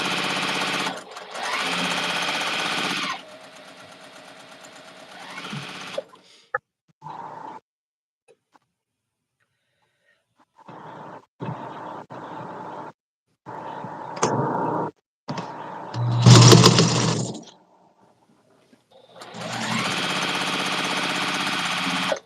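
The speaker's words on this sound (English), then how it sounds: "I think I was sewing the edge of the foot instead of 1/4 inch on that" A sewing machine stitches quilting fabric in several bursts, some long and steady, others short and stop-start, with pauses of quiet in between and a louder clunk near the end before a final steady run.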